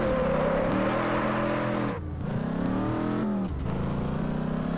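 A car's engine revs and climbs through the gears in the Test Drive Unlimited 2 racing game on wet roads, a steady loud drone broken by two brief dips at shifts.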